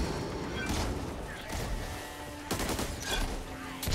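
Rapid gunfire rings out in a zombie shooter game, Back 4 Blood, in repeated bursts of automatic shots and blasts, with players talking over the action.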